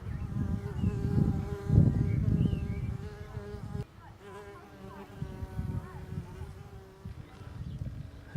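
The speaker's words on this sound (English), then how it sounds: "mason bees are very nice to watch" Mason bees buzzing around a small nest in a garden, a steady close droning hum with wingbeat pitches rising and falling as they zoom about, and a voice talking faintly underneath.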